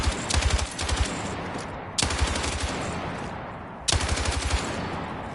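A machine gun in Battlefield 6 fires three loud, close bursts of rapid automatic shots, each followed by a short decaying echo, with no voices.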